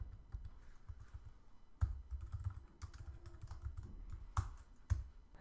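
Typing on a computer keyboard while building an iPhone app: a quick irregular run of soft key clicks with a few sharper taps, close and fairly quiet, no talk.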